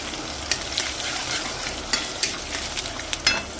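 Green chillies, curry leaves and asafoetida fry in hot oil in a pan for a spicy taro curry, with a dense close sizzle and a few sharp pops and crackles.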